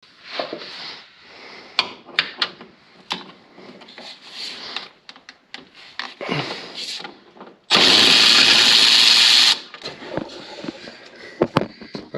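Someone unbolts an engine mount on a Mercedes C230 Kompressor, with metallic clanks and tool handling, then a loud, steady burst of a power tool running for about two seconds, followed by more clicks and knocks.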